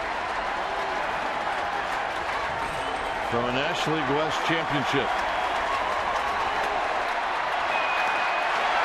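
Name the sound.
baseball stadium crowd applauding, Giants game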